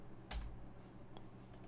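A few single key presses on a computer keyboard, one clear click followed by two fainter taps, quiet and close against a low room hum.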